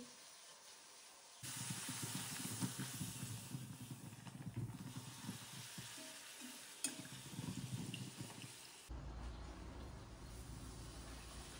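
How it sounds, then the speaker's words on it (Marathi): Puris deep-frying in hot oil at home for a Gudi Padwa festival meal, a steady bubbling sizzle that starts abruptly, holds close and loud with faint stirring clatter, then eases to a quieter hiss near the end. "आता माझ्या पुऱ्या तळून होत आहेत"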